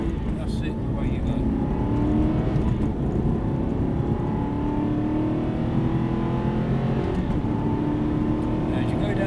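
An Aston Martin accelerates steadily on a track as a continuous, close engine drone holds at a fairly even level throughout.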